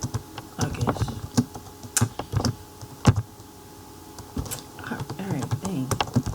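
Typing on a computer keyboard, bursts of sharp key clicks with brief pauses, close and fairly loud, and no speech.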